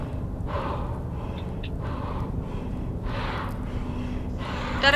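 A mutant pig monster breathes heavily at a door in the horror game The Curse of Blackwater, with rhythmic, raspy snorting breaths repeating every second or so over a steady low background hum.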